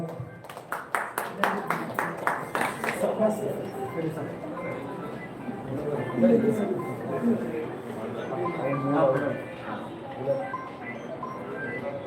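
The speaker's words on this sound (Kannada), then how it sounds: "ಚೌಲ ಚಪ್ಪಾಳೆ." Applause breaks out for a lucky draw winner at a store event, a burst of rhythmic clapping from a small crowd at first, then fading into murmuring voices and chatter.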